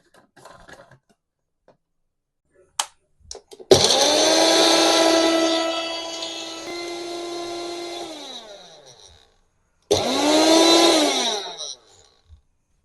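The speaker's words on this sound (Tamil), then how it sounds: "மிக்ஸி ஜார்ல நல்லா நம்ம அதை கிரேட் பண்ணி எடுத்துக்கலாம்." A mixer grinder whirs loudly while blending green chillies, ginger and coriander for kachori filling, with a long high-pitched run that slows and stops, a pause, then a shorter second burst.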